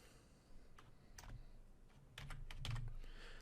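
Keys clatter on a computer keyboard while entering a network ID during Windows Server DNS setup: close, quick clusters of clicks with brief pauses, growing denser toward the end.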